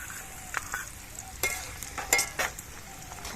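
Steady crackling of potatoes frying in oil, with several sharper scrapes and clinks of a utensil stirring in the pan.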